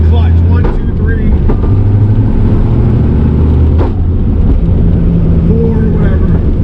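Stick-shift car with a new clutch being broken in on quiet side streets, its engine humming loud and steady from inside the cabin with shifting tones and wind noise.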